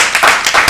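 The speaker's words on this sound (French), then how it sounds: "On applaudit très fort pour le complexe scolaire Emmanuel" Brief burst of clapping from an audience cheering a school team at a spelling competition, several quick hand claps close together.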